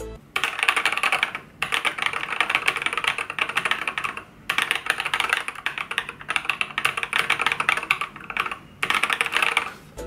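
Rapid, crisp clacking of an Epomaker TH80 Pro mechanical keyboard with Wisteria switches, typed in several bursts separated by short pauses, close and fairly loud, with no voices.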